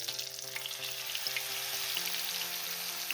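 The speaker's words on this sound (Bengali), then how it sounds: "এইভাবে আমি সমস্ত পকোড়াগুলোকে এক এক করে ভেজে তুলে নেব" Bok flower pakoras deep-frying in hot oil give a steady, dense sizzle with crackling bubbles throughout, close and continuous with no talking.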